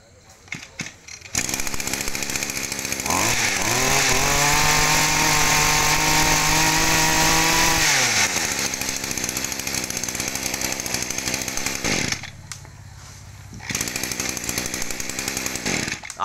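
A Ryobi two-stroke brush cutter engine runs loud and close, revving up to a high whine, holding, then dropping back to a rough idle.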